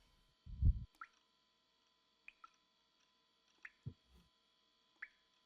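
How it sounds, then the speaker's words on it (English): Blood dripping in the visual novel game Chaos;Head Noah, a few faint, sparse wet drips and a soft squishy plop spread across near silence, with a low hum behind them. "Sounds like dripping blood?"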